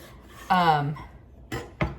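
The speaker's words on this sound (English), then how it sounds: "So I just took a sausage and I'm cutting it lengthwise" A knife slicing a cooked sausage lengthwise on a kitchen surface while making chicken and sausage pasta: a short scraping stroke followed by two quick taps of the blade, close and fairly clear.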